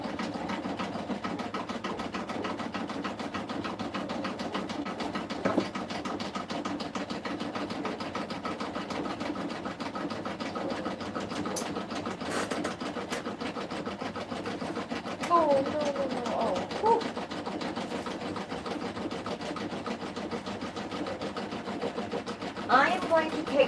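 Embroidery machine stitching out a design at home, a steady mechanical whir with rapid needle rhythm running throughout at moderate level, with occasional small clicks and knocks.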